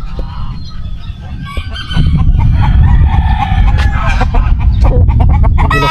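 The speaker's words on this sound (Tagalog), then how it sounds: "Manok." Chickens at a rural Matabungkay spot cluck and crow in a busy, continuous jumble, growing louder after the first couple of seconds, with several birds calling close by.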